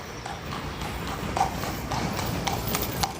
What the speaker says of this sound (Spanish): También están los carretones de caballo, acá detrás mío